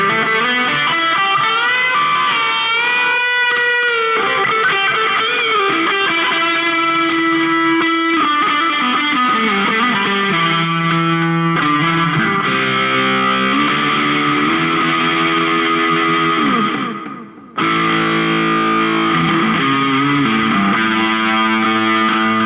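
A Falconstein electric guitar plays dirty, distorted tones, with sustained overdriven notes and chords that ring out thick and buzzy, briefly cutting out near the end before resuming.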